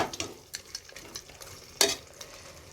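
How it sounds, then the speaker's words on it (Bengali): Country chicken being stirred in a pressure cooker with mustard oil, whole spices, fried onions and tomatoes, a soft sizzle under scattered scrapes and knocks of a spatula against the metal pot, one sharper clank standing out. "পেঁয়াজ আর টমেটোগুলো ভালো করে ভেজে নিয়ে মাংসটা দিয়ে এখন কষানো হচ্ছে"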